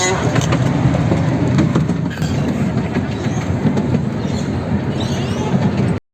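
A toy train carrying riders rolls through the Currumbin Wildlife Sanctuary, giving a loud, steady rumble with rail clatter close by before it cuts off abruptly.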